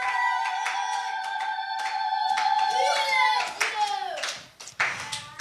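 Church congregation applauding: a dense patter of hand claps over a sustained sung or intoned tone, with claps thinning out and a few isolated ones near the end.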